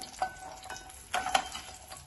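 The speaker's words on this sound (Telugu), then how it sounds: "ఈ చిటపట్లు అంటుంటాయి కాబట్టి దీనిపైన మూత" Spices crackle and pop in hot oil, with a couple of louder bursts over a soft sizzle.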